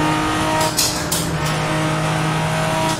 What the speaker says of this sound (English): These cars through tunnels are sounding so good.